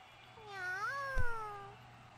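A single drawn-out cat meow, rising and then falling in pitch, with a brief thump partway through and a low steady hum underneath, at a horse show.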